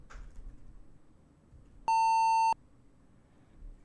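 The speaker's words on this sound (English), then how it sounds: "it beeped at us. Made a loud beeping noise." A computer's PC speaker gives a single loud, steady electronic beep lasting just over half a second, sharp and clear against a quiet room hum.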